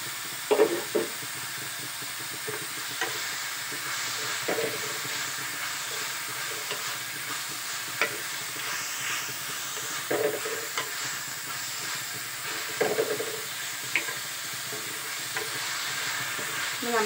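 Chopped onions and tomato fry quietly in a pan, a soft steady sizzle with occasional scrapes and knocks of a stirring spoon, close and fairly faint, no talking.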